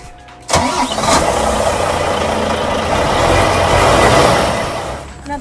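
A large Volvo FH Euro 6 truck's 460-horsepower D13K diesel engine starts with a sudden roar and settles into a loud, steady rumbling idle close by.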